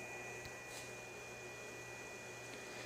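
A fan under test on a performance test bench runs at an operating point, giving a steady broadband whoosh with a constant hum and a thin high whine. It is faint and unchanging, with small clicks now and then.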